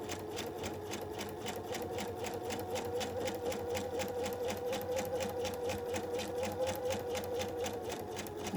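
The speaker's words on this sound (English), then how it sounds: "we're sewing 3/4 of an inch away from that curved edge" Sewing machine running steadily to stitch a seam three-quarters of an inch from a curved edge on a comfort-fit piece, a close, even rapid needle rhythm continuing alone without pause.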